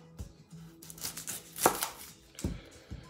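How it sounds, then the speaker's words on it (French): Several firm knife chops through an onion on a cutting board, separate sharp thuds spaced irregularly, close and clear with quiet between strokes. "ce qu'on va d'abord faire, c'est couper son oignon"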